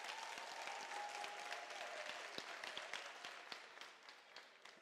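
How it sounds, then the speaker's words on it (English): Distant, faint applause from a university graduation ceremony audience, graduates clapping for their parents in a large hall, an even wash of hand claps with a few sharper individual claps standing out. "Graduates, may we give our parents a round of applause"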